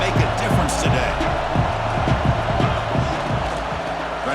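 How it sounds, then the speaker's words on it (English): Home crowd roaring in EA Sports College Football 26 video game, a dense continuous stadium cheer with steady loudness and scattered thumps, filling the whole stretch. "this home crowd is fired up and ready to make a difference today"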